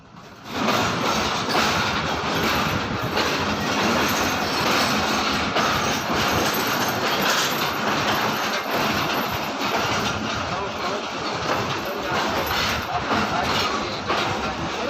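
Karakoram Express passenger train of Pakistan Railway running on rails near Rohri Junction, a loud, steady rumble of wheels and carriages with rhythmic clatter throughout, close and continuous.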